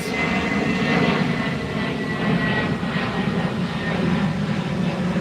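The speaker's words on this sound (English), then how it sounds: "A lot of airplanes." Steady, loud roar of airplane engines overhead at National Harbor, a continuous broadband rumble that holds evenly throughout with no voices.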